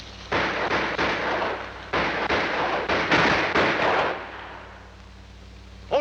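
Gunfire from a western war film about the Seminole War, with dense overlapping volleys of rifle shots in loud bursts that fade into quiet after a few seconds.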